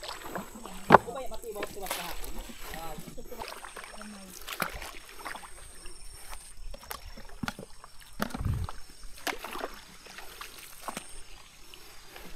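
A small outrigger boat (bangka) moves across water, with sloshing and lapping along the hull and occasional knocks. People talk throughout, close by.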